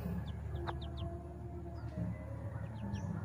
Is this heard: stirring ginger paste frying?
no